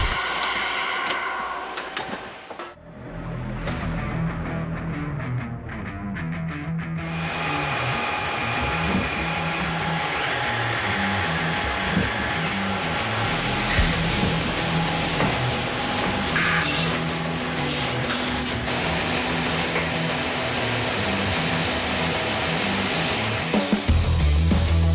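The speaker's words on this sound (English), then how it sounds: "the arm will lower down to grab the beam and begin to push it forward toward the machine." An STD drilling center machine pushes a steel beam forward along its line, a continuous loud industrial hum and whine with rhythmic clanking and ticking, after a short quieter gap early on.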